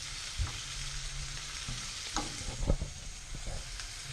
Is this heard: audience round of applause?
no